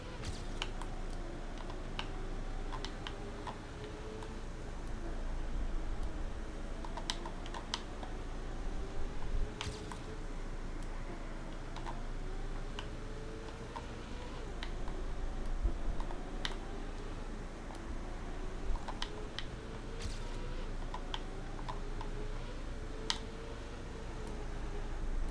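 Game controller buttons clicking and tapping in quick irregular bursts, close and crisp, closely resembling fast keyboard typing over a low background hum.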